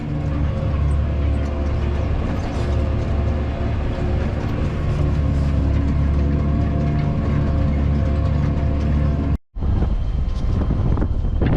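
Strong wind roars steadily and loudly around a tractor cab in an open field during pre-sowing cultivation for maize, buffeting the microphone with a constant low rumble that cuts out briefly near the end.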